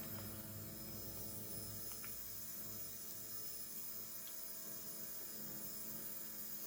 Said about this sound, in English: this Evil Energy fuel pump is the noisiest fuel pump I've ever had